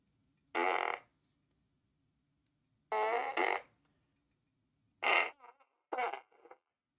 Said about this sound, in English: farts aren't funny anymore